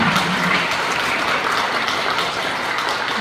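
A church congregation applauds warmly for a Paralympic table tennis medalist. The clapping is dense and continuous and stays evenly loud throughout.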